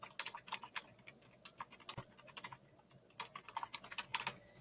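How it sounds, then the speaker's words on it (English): Quick bursts of typing on a computer keyboard, light rapid clicking keystrokes with brief pauses, fairly faint and close with no talking. "So I'm just going to simply type in"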